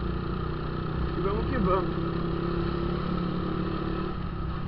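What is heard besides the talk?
small 50cc motorcycle engine running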